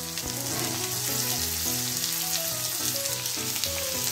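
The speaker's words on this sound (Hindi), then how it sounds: "इसको अच्छे से मिक्स करके हाई फ्लेम में रख के तल लेंगे" Five large cut onions and green chilies frying in hot oil over high flame for egg bhurji, a constant close sizzle with faint stirring under it and no talk.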